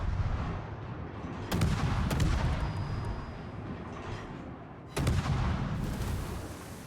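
Naval gunfire from the Marceau gunboat in World of Warships, with two loud salvos roughly three seconds apart, each a sharp broadband blast followed by a long rumbling tail over steady engine and sea noise.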